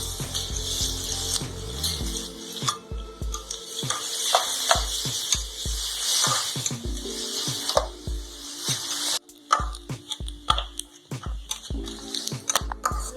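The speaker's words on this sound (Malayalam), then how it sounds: "വെളുത്തുള്ളി, ഇഞ്ചി, ഉള്ളി ഇതെല്ലാം കൂടെ ഒന്ന് വഴറ്റിയെടുക്കാം." Onion, garlic, ginger and curry leaves sautéing in a pan for tuna fish cutlets, a continuous nearby sizzle broken by repeated rhythmic scraping and clicking strokes of a spatula, with a brief lull near nine seconds.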